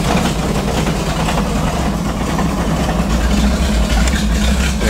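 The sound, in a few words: car engine idling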